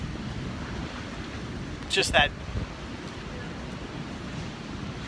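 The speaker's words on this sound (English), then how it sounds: "the waves and everything and how crazy the ocean looks right now" Cold, rough ocean surf and wind at the shore make a steady low roar that is loud and close, with buffeting wind on the microphone and a brief spoken word near the middle.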